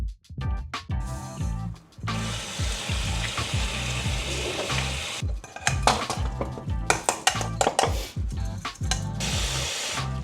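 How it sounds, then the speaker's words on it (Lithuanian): Shrimp and salmon fry in a pan, a steady close sizzle running throughout, broken by clattering pans and utensils and short gaps where the sizzle drops away. "ant keptuvės kepsiu krevetes, čia kepsiu lašišą"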